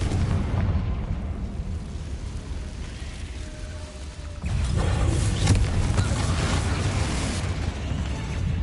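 A Confringo blasting curse from Hogwarts Legacy erupts with a loud, sudden blast midway, then a sustained crackling, rain-like rumble of debris that carries on to the end, layered over game ambience.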